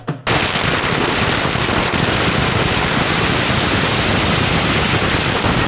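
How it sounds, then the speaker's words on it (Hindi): A dense, continuous crackling roar of firecrackers bursting nonstop in the street, loud and close, like a long string going off without pause. "सड़कों पर पटाखों की झड़ी लगा दी"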